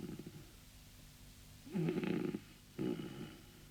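Snoring in a children's animated story, two soft rasping breaths in a row, close and fairly quiet over a faint background, the second shorter than the first, with no talking.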